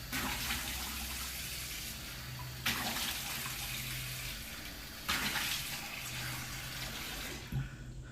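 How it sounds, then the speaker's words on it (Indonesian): Tap water running steadily into a bathroom sink while a face is washed at night, a continuous close hiss and splash with a few brief breaks and surges. "akhirnya Masjid mencuci muka di wastafel"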